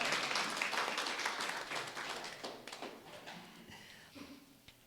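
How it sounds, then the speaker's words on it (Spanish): An audience at a marriage retreat applauds the actors after a short skit, a burst of many hands clapping that is loudest at first and then thins out and fades over several seconds. "Dale un aplauso, por favor, a los actores."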